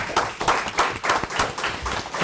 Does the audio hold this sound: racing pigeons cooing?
no